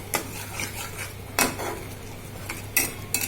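A spoon stirs spice masala for egg curry in a cooking pot, scraping and clinking against the metal several times at close range over a faint low hum.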